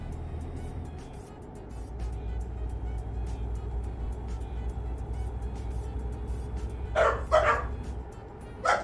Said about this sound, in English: Doggos!